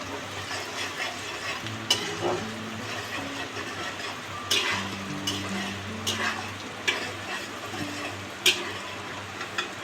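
Potatoes fry in oil for a biryani with a continuous close sizzle, punctuated by scraping stirs and occasional sharp clinks of a utensil against the pan.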